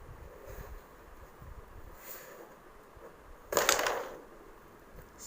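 In a home game of carrom, a striker hits the carrom coins with one sharp, close clack that rattles briefly, standing out from an otherwise quiet room.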